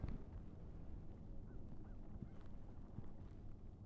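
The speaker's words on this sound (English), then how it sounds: "We got some Canadian geese down here. Canada geese." Canada geese on Lake Arthur give scattered, faint honks at a distance, sparse calls over a low ambient rumble outdoors by the water.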